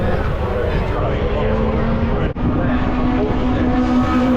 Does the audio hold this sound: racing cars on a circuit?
yes